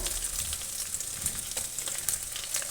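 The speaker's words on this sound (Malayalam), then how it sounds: "കുറച്ച് കറിവേപ്പില ഇട്ട് കൊടുക്കാം, പച്ചമുളകും ഇട്ട് കൊടുക്കാം" Curry leaves and green chilies frying in oil in a pan for Kerala-style chicken curry, a steady close sizzle and crackle with bright spitting pops throughout.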